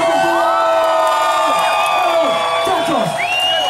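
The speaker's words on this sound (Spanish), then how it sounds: "¡Fuerte el aplauso, por favor!" A concert crowd at an outdoor youth-month show in Coquimbo cheers and whoops loudly, with shouts, whistles and scattered clapping swelling together close by.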